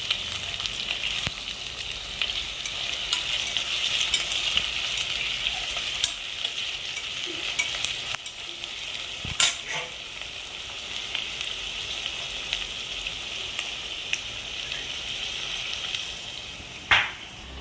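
Biryani ingredients sauté in a pan at home with a continuous bright sizzle, and a few sharp stirring clacks stand out over the even crackle.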